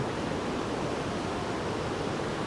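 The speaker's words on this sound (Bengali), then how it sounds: "মানে বুঝতে পারছো কত নিচ দিয়ে জলটা বয়ে যাচ্ছে" Deep river rushing far below in a steep canyon at Pokhara, Nepal, a steady, dense, unbroken roar of water with no voices.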